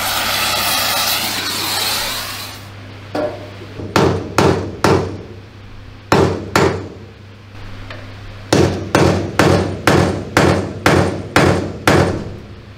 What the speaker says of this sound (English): we're going to try to heat them up bright red and punch them through